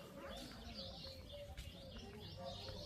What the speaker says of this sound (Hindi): अगर चिड़ियों की आवाज़ अगर आप सुन पा रहे हो